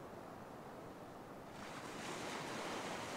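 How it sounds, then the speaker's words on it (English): Ocean waves wash onto a beach beside a sandbar, making a continuous soft broadband surf hiss that swells slightly louder midway, fairly distant and faint, with no talking. "where the waves are draining off the big sandbar down there"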